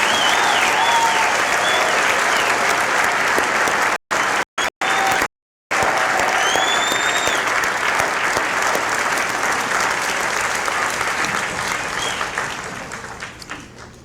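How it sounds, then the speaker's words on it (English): Loud, sustained applause from a large crowd at a dental school commencement ceremony, with a few brief dropouts and a slow fade toward the end. "one more round of applause for the 2017 class of the Doctors"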